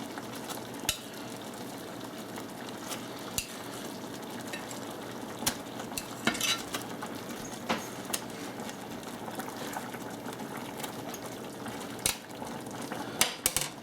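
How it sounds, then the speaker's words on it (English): Burger patties simmer in a mushroom mixture in a pan, giving a steady low bubbling sizzle broken by scattered utensil scrapes and clinks from stirring, close and without talk. "we can add our burgers back into the mushroom mix"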